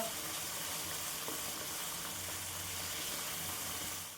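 Masala sautés in oil for a paneer Hyderabadi gravy, a soft, even sizzle heard up close and continuing quietly throughout with no talking.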